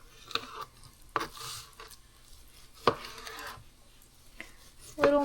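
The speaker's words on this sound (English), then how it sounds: "Just gonna cut them in little cubes so they're easier to cook." A knife chops raw wahoo fish into small cubes on a board, a few sharp irregular chops and taps spaced out, fairly close and moderately quiet, with light kitchen handling noise between.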